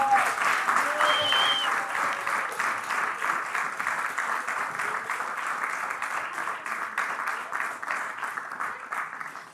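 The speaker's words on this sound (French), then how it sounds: "on peut les applaudir encore une fois" A church congregation applauding the children at the close of a Sunday service, sustained, even clapping from many people, fairly near, with a faint voice or whistle-like tone briefly above it.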